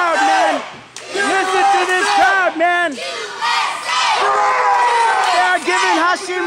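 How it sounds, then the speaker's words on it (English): A wrestling show crowd roars and chants in a big venue, loud, swelling waves of cheering and whooping voices that dip briefly and then surge back. "Listen to this crowd."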